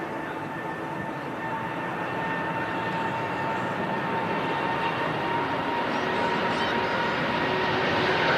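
An airliner takes off at Manchester Airport, its engines a broad, steady roar that swells slowly and holds loud throughout, with no voices over it.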